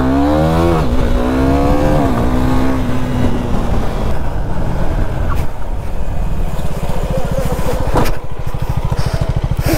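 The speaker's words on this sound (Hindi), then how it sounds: "एक व्हीली ट्राई करते हैं यहाँ।" A KTM motorcycle engine revs hard during a wheelie attempt, loud and close, with pitch climbing and falling through throttle blips and a steady throbbing idle toward the end.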